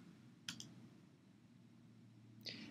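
Two crisp mouse clicks sound about two seconds apart over a faint low room hum, each short and sharp, while joining a Blackboard Collaborate session.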